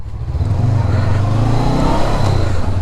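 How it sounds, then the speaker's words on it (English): A Honda CB500X 500cc parallel-twin motorcycle engine idles with a deep, bassy exhaust rumble, steady and close, with a slight rough throb throughout. "If you can hear the exhaust, a little bit of vibes"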